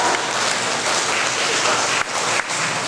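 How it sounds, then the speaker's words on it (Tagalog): A church congregation in the Philippines applauds during a sermon: a dense, steady wash of clapping lasting a few seconds, with brief dips near the end. "Palakpak po natin si Lord."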